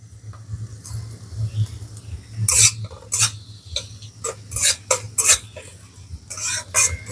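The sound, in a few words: garlic and ginger frying with carrots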